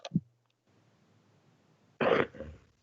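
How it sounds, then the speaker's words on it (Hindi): A short cough near the start, then quiet hum, followed by a louder burst of coughing or throat clearing near the end. "ये आवाज किसकी खांसने की बहुत आ रही है?"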